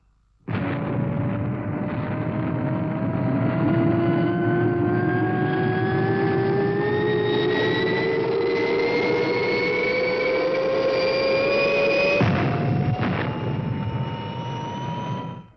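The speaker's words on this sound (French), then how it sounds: "Décollage effectué parfaitement, mon général." A rocket engine roars up abruptly at takeoff and holds a loud, steady rushing drone with a rising whine, then cuts off sharply near the end.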